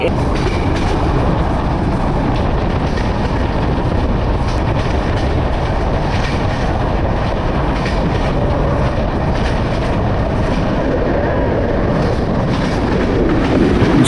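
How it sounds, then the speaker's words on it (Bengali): A train runs along the tracks with a loud, steady rumble and repeating clickety-clack of wheels, unbroken from start to finish. "আমাদের ট্রেনটি কিন্তু ছুটে চলেছে"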